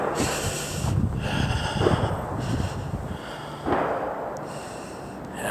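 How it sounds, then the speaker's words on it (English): Distant gunshots echo through pine woods in the Pine Barrens on a chilly day, several dull muffled booms spaced a second or two apart over faint background rustle. "I don't like the gunshots."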